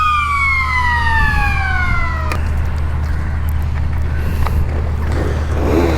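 Superbikes at a race track sweep past, their high engine whine dropping steadily in pitch over a constant low rumble, then fading into a busy trackside background.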